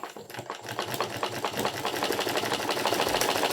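Electric sewing machine stitching falls onto the edge of a saree, running at a steady, rapid needle rhythm that gradually gets louder and more even, close up with no talking.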